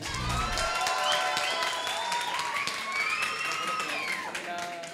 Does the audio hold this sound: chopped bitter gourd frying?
no